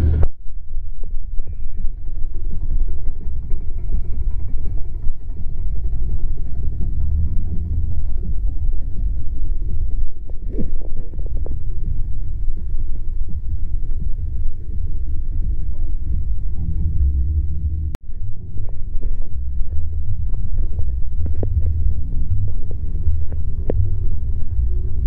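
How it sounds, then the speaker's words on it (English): Supercharged car engine with a blower idling at an outdoor church car show, a steady deep low rumble with throbbing pulses running throughout, close and loud, with a brief dip near the end. "Nice blower motor."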